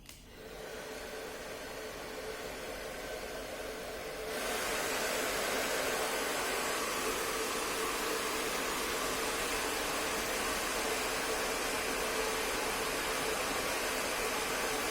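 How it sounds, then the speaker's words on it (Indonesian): A hair dryer blows onto a temperature sensor, starting with a steady whoosh that jumps to a louder, fuller roar after a few seconds and then holds constant, with no talking. "Kemudian kita nyalakan hidrenya sambil melihat multitester."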